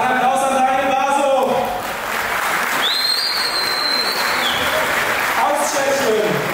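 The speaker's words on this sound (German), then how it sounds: "Ein Applaus an Daniel Basel." Loud applause fills the hall at a professional boxing event as a fighter is introduced. A sharp whistle cuts through midway and an announcer's amplified voice is heard at the start and end.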